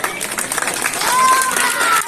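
Audience clapping and crowd noise at a tied kabaddi semi-final in an open tournament, a steady wash of applause throughout with a few whistle-like tones rising over it near the end.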